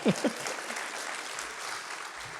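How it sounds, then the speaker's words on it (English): Applause from the audience at a medical school white coat ceremony, a short burst of steady crowd clapping heard alone after a couple of brief low thumps at the start. "Round of applause again, please."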